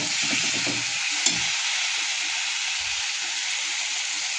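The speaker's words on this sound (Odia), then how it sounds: "2 ଖଣ୍ଡ ଆମ୍ବ ଦେଇକି ମସଲାରେ ବାଗେଇକିନି କଷିଦେବି" Mango pieces sauté in spice masala in a hot pan with a steady, close sizzle and hiss, and a few soft stirring scrapes near the start.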